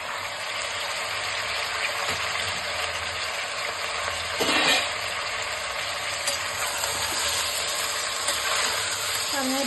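A curry with broad beans, dry fish and brinjal being stirred in a pan gives a continuous close sizzling, bubbling hiss with a brief louder scrape of the spoon in the middle.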